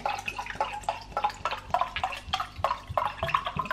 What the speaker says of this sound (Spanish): Lo disuelvo un poquito con agua.